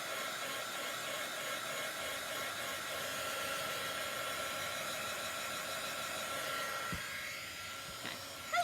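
A hair dryer blows steadily at close range to dry chalk paste on a craft branch, a continuous whooshing hiss holding even throughout with a faint click near the end.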